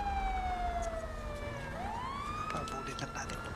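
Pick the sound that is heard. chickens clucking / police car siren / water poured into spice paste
police car siren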